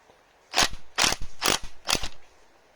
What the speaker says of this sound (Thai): ผมจะใช้ บล็อก ไฟฟ้ายิงออกนะครับ